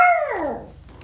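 A pet dog lets out a loud, close howling bark that slides downward in pitch and fades out within about a second, with no talking over it.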